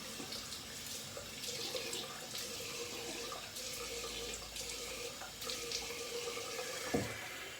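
Cold water runs steadily from a bathroom tap into a sink after a shave, a continuous splashing rush with a brief louder splash near the end, no voices.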